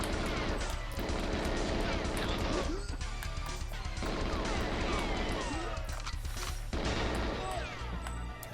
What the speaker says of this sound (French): Et allez, ça explose encore.